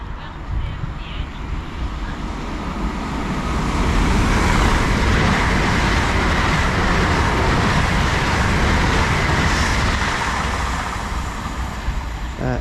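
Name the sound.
LNER Class 800 train passing through Newark North Gate station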